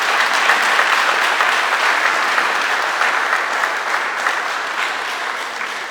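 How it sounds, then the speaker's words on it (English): Sustained audience applause at a civil society and journalists' government programme event, a dense, steady wash of clapping from a large crowd that continues throughout and tapers slightly toward the end. "I'll tell you why that round of applause should be louder and definite."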